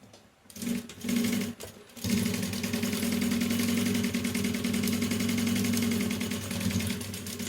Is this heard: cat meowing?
no